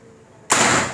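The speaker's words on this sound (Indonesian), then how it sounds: "tembakan kedua, bismillahirrahmanirrahim." A single air rifle shot fires as a sharp, loud crack with a brief hissing tail, following a quiet moment, during a power test of an air gun.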